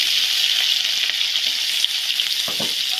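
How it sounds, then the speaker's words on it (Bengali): Plantain pieces frying in hot oil in a home kitchen, a loud, dense, continuous sizzle close by with a few small pops and stirring touches, no talk. "তেল গরম হয়ে গেছে, এখন আমি কলা দিলাম।"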